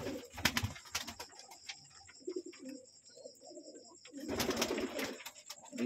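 A dove coos among pigeons in a backyard loft, soft repeated low calls in the middle with bursts of louder bird noise at the start and end, close by and alone.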